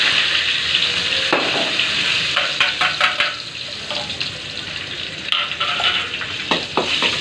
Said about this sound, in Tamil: நல்லா வதக்கணும்மா